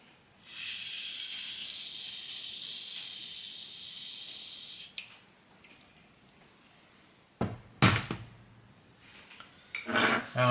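Whipped cream hisses steadily from a can for several seconds onto a chocolate coffee frappe, followed by a few sharp clinks and taps of a cup and lid.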